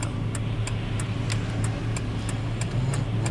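A car rolls through a flooded residential street, a steady low engine hum and water wash with regular ticking clicks, close and continuous, no voices.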